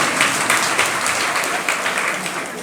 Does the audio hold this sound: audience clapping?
yes